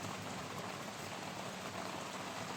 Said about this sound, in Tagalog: Kaya tapos ang lakas pa ng ulan.